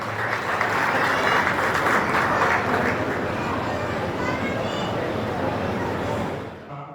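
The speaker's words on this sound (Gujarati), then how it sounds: "તો એની જગ્યા બનાવવા માટે પણ તાળી પાડતા રહેશો." An audience applauds at a Rana Samaj appreciation event in Valsad, a dense, steady wash of many hands clapping for about six seconds before tapering off at the end.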